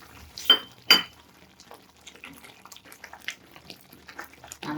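A spoon scraping and clinking against a pan while a raw potato and rice flour batter is stirred, with two sharp metallic knocks early on and then light, scattered taps and scrapes.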